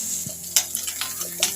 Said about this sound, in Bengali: চলো দেখি মাছটা কত দূর ভাজা হলো।